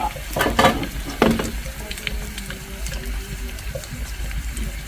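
Mussels fry in hot oil in a home kitchen, shallow-fried and basted rather than deep-fried. A close, steady crackling sizzle runs throughout with a few louder stirring clatters near the start, and no talking.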